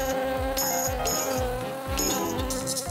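A pesky housefly buzzes close by, a continuous droning whine that swoops up and down in pitch, loud and steady with brief high glints of another sound layered on top.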